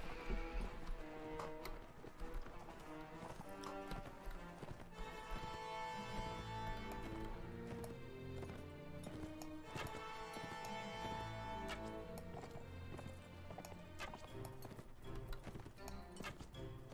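Horses gallop in the Mount & Blade Warband video game, a dense, continuous drumming of many hooves with occasional neighs under a busy layer of battle and game sounds.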